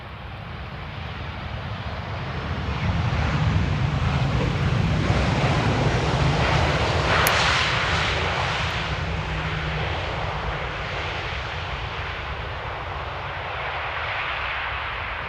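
A Sunweb Boeing 737 airliner arriving at Amsterdam Airport in rain, its engine roar broad and steady, swelling then holding loud as the jet passes fairly close, with rain and wind noise beneath and no talk.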